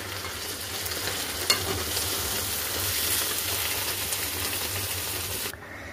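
Potato curry fries in a pan with a constant, fairly quiet sizzle, broken once by a brief clink of a utensil and ending with a sudden drop.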